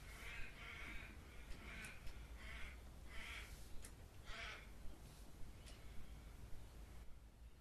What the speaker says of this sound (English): Can we all hear those birds?